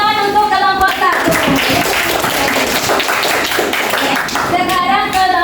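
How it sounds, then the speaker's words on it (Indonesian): A classroom group of students claps for group one in a mathematics lesson. The clapping is loud and fairly continuous, with voices and tonal sounds heard at the start and end. "Beri tepuk tangan untuk kelompok 1"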